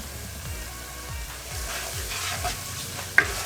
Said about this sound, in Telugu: ఈ పసుపు కూడా 1 నిమిషం పాటు వేయించుకుందాం